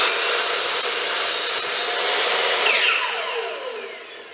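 A hand saw cuts through the end of a wooden board, a loud, close, continuous rasping of sawing that tapers off as the offcut drops free.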